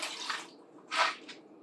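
Fresh lemon juice poured into a sugar-rimmed glass gives two short splashy pours with a brief trickle between them, close and fairly clear.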